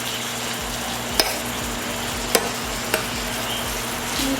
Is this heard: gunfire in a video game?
no